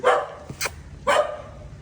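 A dog barks in short bursts at a house for sale in Kelambakkam, giving about three loud, close barks with brief pauses between them and no talk over them.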